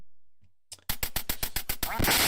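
A duck in the NES game Duck Hunt quacks in a rapid series of about ten short, loud, evenly spaced electronic quacks after a moment of quiet, with no talking.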